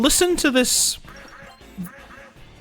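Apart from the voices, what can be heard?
bird demon quacking like a duck in Shin Megami Tensei: Persona video game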